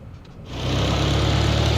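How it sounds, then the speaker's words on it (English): A small airplane's piston engine cranks briefly and then catches, rising into a loud, steady close-up running rumble that continues to the end. "There we go. Engine start successful."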